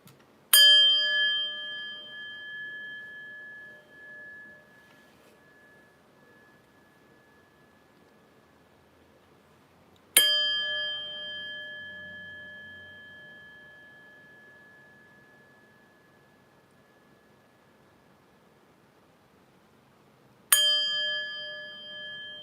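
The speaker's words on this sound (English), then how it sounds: "But first, let's chime." Three clear chime strikes ring out roughly ten seconds apart, each a bright metallic tone with a long fading ring that decays into near silence before the next one sounds.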